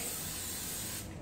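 Cooking oil sprays from a can into a hot frying pan, a continuous close hiss that cuts off just before the end.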